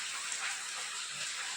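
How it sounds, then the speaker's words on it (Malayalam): Rain falls steadily outside, a soft continuous hiss of drops with no break, fairly faint and unaccompanied by voices. "ഇവിടെ നല്ല മഴയുണ്ട്."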